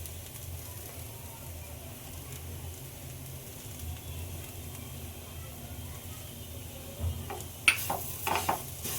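Bhakri upma with curd stir-fries in a pan, a faint low sizzle running steadily underneath, then a few sharp clatters and scrapes of stirring near the end, with no talking.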